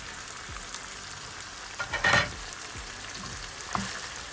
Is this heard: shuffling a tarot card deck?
no